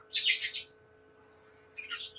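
Pet birds chirp indoors in two bright bursts of quick, high tweets separated by a short quiet gap, fairly close over a faint steady electrical hum.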